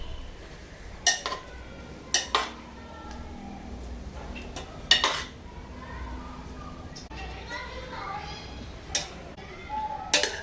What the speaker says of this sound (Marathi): आता यामध्ये शिजवलेला भात मिसळून घेते